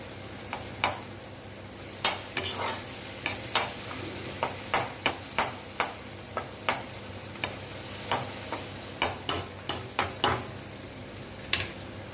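A pot of tamarind curry with fenugreek greens and whole garlic simmers quietly while a spoon stirs it, giving sharp, irregular clicks and taps against the pan over a soft bubbling background.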